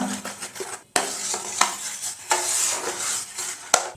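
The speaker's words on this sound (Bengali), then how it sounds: "এবার বেশ করে মিশিয়ে নেব" Ground soybean mixed with water is stirred briskly in a pot, with rhythmic sloshing and scraping strokes and a few sharp knocks of the spoon against the pot, close up and with no talk.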